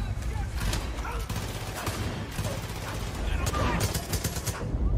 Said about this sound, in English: That is an AK.